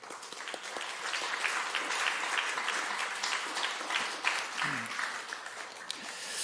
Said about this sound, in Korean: 잠깐 일어날 때 우리 위로의 박수 들어가겠습니다